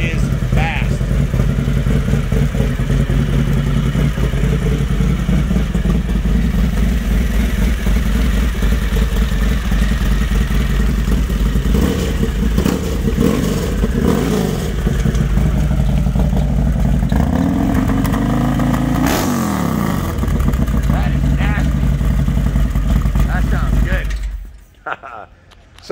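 A Harley-Davidson V-twin motorcycle engine, built to about 135 rear-wheel horsepower, runs steadily and loud inside a dealership, with a pair of revs rising and falling near the end before cutting off. Voices talk over it.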